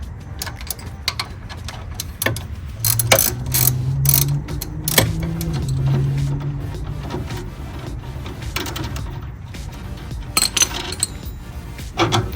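A ratchet wrench with a 17 mm socket working bolts loose while removing a car's strut and end link on a Hyundai Elantra N, rapid clicking bursts under a low mechanical hum, close by and without talk.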